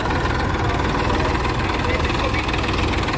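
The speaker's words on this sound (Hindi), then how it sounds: "ट्रैक्टर जो है एक जगह घुमा के छोड़ दिया, अब यहीं घूमता रहेगा ये" A Massey Ferguson 244 tractor engine idles while the tractor circles on its own in one spot outdoors. The engine keeps up a loud, steady diesel rumble with a knocking pulse, and people talk over it.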